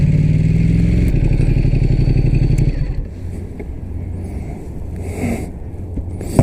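A 2016 Ducati X Diavel S engine runs loud and close with a throbbing low rumble that eases off after a few seconds into a quieter idle, with faint clatter from the road around it.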